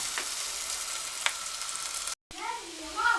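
Hot water is poured into a sizzling pan of liver for shawarma fatta, setting off a loud, close frying hiss. A brief cut is followed by bubbling as the water boils in the pan.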